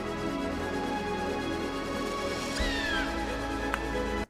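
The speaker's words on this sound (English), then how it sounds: "it's actually making this seagull sound effect sound better" A seagull call rises once and then slides downward, a short cry set into a sound-design mix over a dense, steady bed of crowd walla and background layers.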